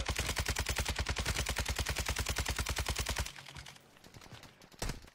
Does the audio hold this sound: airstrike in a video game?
yes